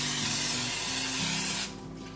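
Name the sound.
olive oil cooking spray sprayed into silicone loaf pan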